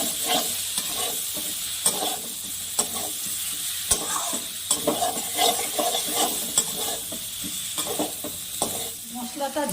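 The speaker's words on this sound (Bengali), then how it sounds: "এবার আমি ঝিঙেটাকে আর অল্প মশলার সাথে কষিয়ে নিব।" Ridge gourd frying with potatoes and spice paste in a pan, a continuous sizzle under frequent scraping stirs and occasional light clinks of a utensil against the pan, close and fairly loud with no speech.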